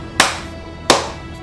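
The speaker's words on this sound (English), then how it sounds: "you hear the clapping from across the arena" Two sharp, distinct claps in an arena, spaced under a second apart, each with a short echoing tail.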